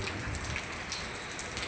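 Rain falls steadily on surfaces on a rainy Sunday, a dense, even hiss of droplets with occasional slightly sharper drips, close and continuous with no voices.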